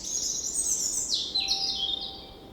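A small exotic bird sings while holding grass in its beak, giving a bright, high chirping song with quick, sliding notes that runs steadily, close and clear, with no talk.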